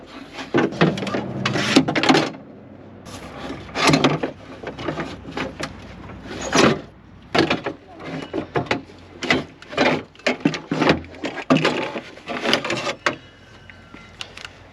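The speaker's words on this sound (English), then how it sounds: "once everything is loose, we can start pulling it out of the door." Window motor assembly worked out of a Chevy/GMC car door: repeated scraping, rubbing and knocking of plastic and metal parts in bursts, close and moderately loud, with no talking.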